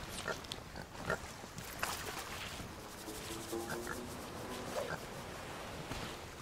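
Pig grunts and oinks from the video game Sea of Thieves, several short snorts scattered across a busy background of game ambience, moderately close and not very loud.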